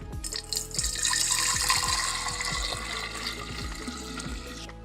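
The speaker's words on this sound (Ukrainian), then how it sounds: "І оце зливаємо в 3-літрову банку." Liquid from homemade cherry wine pouring steadily into a 3-litre glass jar, a continuous splashing gurgle with small knocks, close and fairly loud, no voices.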